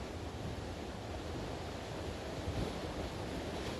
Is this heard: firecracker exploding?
no